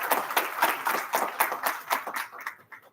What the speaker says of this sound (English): So let's applaud, encourage, and congratulate the graduating batch.